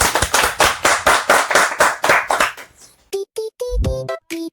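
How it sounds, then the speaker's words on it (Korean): An audience gives a short burst of loud, rapid clapping that fades out after about two and a half seconds, followed by brief tonal musical notes. "예, 박수!"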